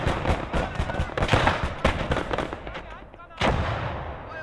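Mortar rounds and artillery in the World War II game Gates of Hell: Ostfront burst in rapid succession, near and loud, over a dense wash of battlefield noise. A heavy blast lands about three seconds in, and a voice is heard throughout.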